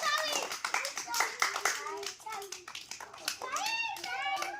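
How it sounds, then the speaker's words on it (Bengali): Children clap in encouragement during a candyfloss-eating game, a run of quick, close hand claps heard under and between lively children's voices. "একটা হাততালি হয়ে যাক উৎসাহ দাও"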